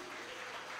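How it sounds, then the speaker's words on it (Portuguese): Congregation at a Pentecostal church service applauding steadily, a dense continuous clapping that stays even and fairly quiet throughout. "vamos aplaudi-lo bem forte por isso."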